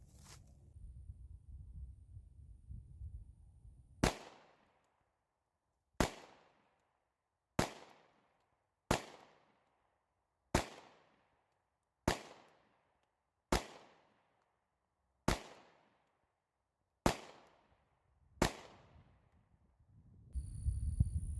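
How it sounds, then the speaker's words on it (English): Ten 9mm pistol shots fired with steel-cased ammunition at a shooting range, each a sharp crack spaced one to two seconds apart, with quiet gaps between them and a low rumble before and after. "Go ahead and put that last mag in and shoot it."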